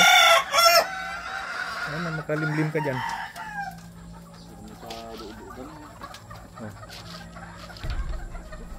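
Round head hens and roosters cluck close by, with a crow-like call early on, amid farmyard background noise; someone speaks briefly over the birds.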